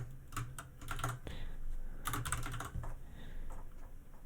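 Computer keyboard typing while entering code, a quick run of close, crisp key clicks in bursts with short pauses, steady over a low background hum.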